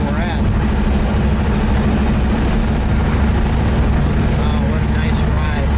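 A 1986 Chevrolet Camaro Z28 IROC with T-tops cruises along, its engine a steady low drone under continuous road and wind rush heard from inside, with people talking over it.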